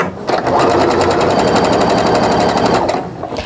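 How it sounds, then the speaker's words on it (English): A sewing machine stitches quilt fabric pieces placed right sides together for a layer cake log cabin block, running as a fast, steady, loud mechanical chatter for about three seconds, close up and uninterrupted. "I'm just going to arrange them right sides together and sew"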